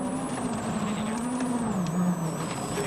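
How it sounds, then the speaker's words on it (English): A WRC rally car at the 2019 Rally Mexico is heard close by with a steady engine roar as it drives over rough rocky gravel, with loose stones clattering underneath. "to all the rocks and the gravel clattering away under his car"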